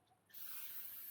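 Aerosol spray paint hisses steadily onto the cover of a mouldy Mountfield push mower, a sudden loud continuous spray that begins after a brief quiet moment and holds evenly to the end.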